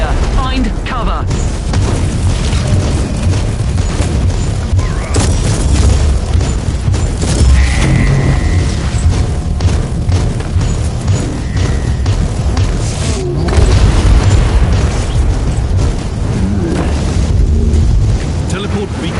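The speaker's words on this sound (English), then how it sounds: "The Imperial Navy has launched Marauder bombers as a counterattack. They will bomb the entire area." Marauder bombers bombing the area in the Warhammer 40,000: Inquisitor video game, a continuous loud rumble of explosions and booming blasts with mechanical clatter throughout, with voices talking over the barrage.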